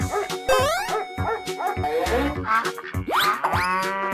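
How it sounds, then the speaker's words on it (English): A cartoon-style dog barks and yips in quick playful bursts, close and loud, with bouncy, springy effects in between. "Dog"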